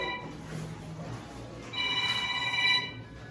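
A mobile phone rings with repeated bright electronic tones, the pattern growing stronger midway and continuing steadily over a dull room background.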